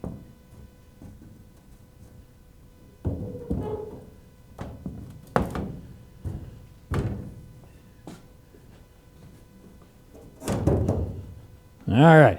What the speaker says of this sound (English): Let me put the hood back on.